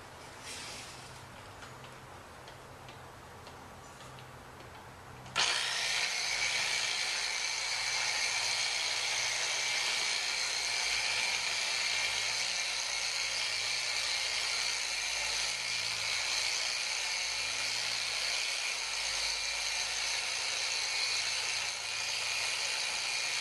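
A Porter-Cable polisher starts abruptly and then runs with a loud, steady whir while polishing the windshield of a 2011 VW GTI, continuing without a break to the end.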